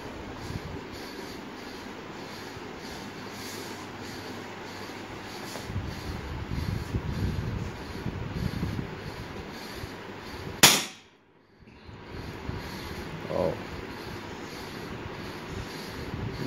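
A Crosman SNR357 dual-ammo airgun fires once, a single sharp, loud crack that stands out above a steady background hum, followed by a brief quiet gap.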